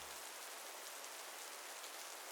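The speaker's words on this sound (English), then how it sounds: "Starting to rain a little bit here" Light rain falling steadily as Hurricane Idalia reaches the Florida Keys, a soft, even hiss of drops filling the air, close and constant, with no voices.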